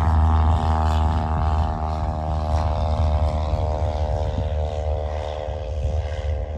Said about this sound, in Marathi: गेलेलं आहे विमान, तेव्हा टेकअप घेतलेला आहे गाईज.